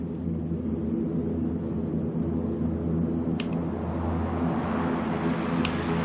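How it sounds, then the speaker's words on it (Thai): An airplane flies overhead in the PUBG battle royale game, heard as a steady, deep droning rumble that holds level throughout with no voices over it. "เสียงเครื่องบินนะเสียงเครื่องบิน"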